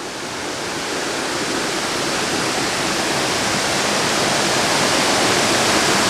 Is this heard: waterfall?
yes